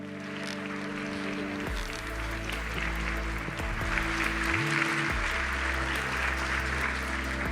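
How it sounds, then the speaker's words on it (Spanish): A conference audience at Congreso Futuro 2023 applauds a speaker, Jorge Olcina: steady, sustained clapping throughout with tonal music sounding underneath. "ese aplauso para Jorge Olcina"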